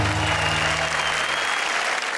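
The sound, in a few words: audience applause for a poetry performance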